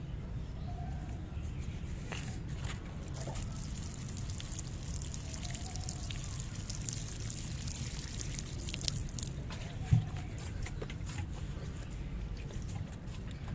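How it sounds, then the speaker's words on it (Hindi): Water poured onto newly potted aloe vera plants in soil: a faint, steady trickling pour continues throughout, with a small thump near the end and no voices. "अब टाइम है इनको पानी देने का। इनको पानी दे लेते हैं।"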